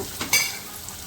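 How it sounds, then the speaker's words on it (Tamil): Onion sautéing in a pan for a guava leaf stir-fry, heard as a brief close sizzle with a quick stirring scrape, with no speech. "இது நல்லா வதங்கட்டும் வதக்கலாம் வெங்காயம் ஓரளவுக்கு வதங்கணும்"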